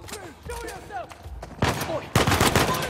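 Gunfire in the video game Uncharted 4, including an AK-47, with rapid bursts of shots growing louder and denser toward the end, mixed with voices talking and calling out.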